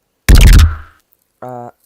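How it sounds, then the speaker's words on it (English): A synth patch built in Vital gives a loud, bright percussive hit with a decaying tail, then a quieter tonal stab with stacked harmonics after a short gap. "This is a Vital patch."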